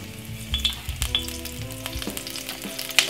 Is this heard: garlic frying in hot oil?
yes